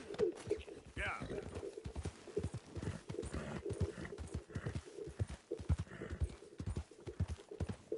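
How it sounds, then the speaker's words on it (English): Horse hooves clip-clop in Red Dead Redemption 2, irregular hoofbeats with whinnies and bird coos in the background, under people talking. "O cavalo dele. O cavalo fugiu, velho."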